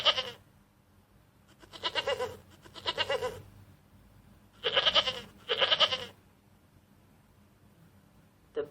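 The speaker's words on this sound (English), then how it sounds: "The silly goats started pushing and fighting with each other." Goats pushing and fighting bleat repeatedly nearby, with five loud wavering cries coming in uneven bursts separated by quiet pauses.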